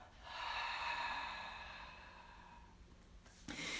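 A single long, forceful exhale through an open mouth during a breathing exercise, a close breathy rush that fades gradually over about three seconds, followed by a faint shuffle.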